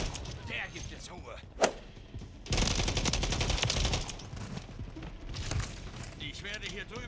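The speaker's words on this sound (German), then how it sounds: "Ich werde hier drüben beschossen." Gunfire in Call of Duty MWIII, with scattered single shots and then a loud, sustained burst of rapid automatic fire from a few seconds in, mixed with game sounds while a player speaks.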